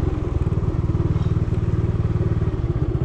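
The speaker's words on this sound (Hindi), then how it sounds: "स्कूटर पार्क करते हैं यहाँ पे" A scooter's small engine idles with a rapid, even putter close by while being parked at a parking area in Vietnam, steady and loud throughout with no speech.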